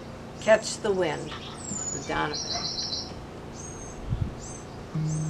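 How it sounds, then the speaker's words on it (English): Birds chirping and singing in the background outdoors in early June, short high tweets recurring through the clip while someone speaks in the foreground. "Hope you can hear the birds in the background."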